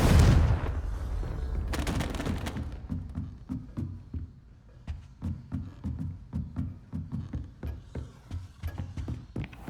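Confringo fire spell cast in the video game Hogwarts Legacy: a loud burst opens the clip, followed by a long run of rapid, regular popping blasts and thuds, all close and with no talk.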